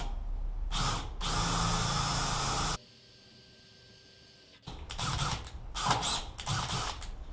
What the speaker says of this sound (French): j'ai lubrifié, je perce.